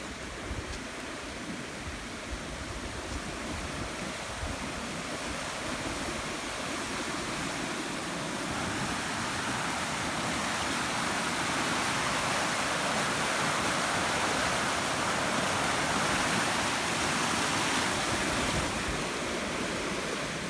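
A flooded river in the Loxley Valley rushes after rising water, a loud continuous roar of turbulent flow heard close up without pause.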